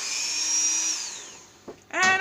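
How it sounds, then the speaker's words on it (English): Small Dremel rotary tool drilling holes in a plastic container bottom, first a steady high whine that winds down, then two short close bursts as the bit bites again. "any excuse I have to use my little Dremel, I will"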